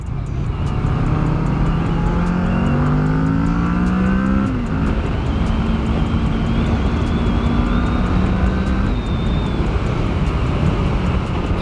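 A 2021 Kawasaki Ninja 650, a 649 cc bike, accelerates through several gears, its engine rising in pitch, dropping at each shift and climbing again, loud and steady with a throaty tone under wind noise.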